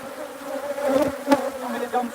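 Swarm of killer bees buzzing steadily close by during an invasion at a library, droning and swelling in loudness without clear speech.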